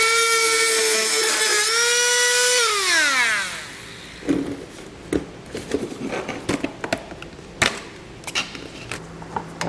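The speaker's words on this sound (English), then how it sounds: "I'm actually going to use a cutoff wheel this time to make it a little easier to get this trimmed out" A cutoff wheel whines at high pitch, spinning down with a falling tone, then gives way to scattered clicks and light scraping while trimming a plastic panel during installation of a Curt trailer hitch receiver on a 2016 Toyota RAV4.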